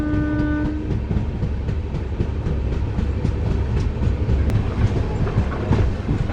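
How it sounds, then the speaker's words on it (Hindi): The Nangal Dam Express, an express train, runs loud and steady on rails approaching Samrala station platform, with continuous rumbling and rhythmic wheel clatter from close by throughout. "समराला प्लेटफॉर्म नंबर 1 पर जाती हुई हमारी ट्रेन।"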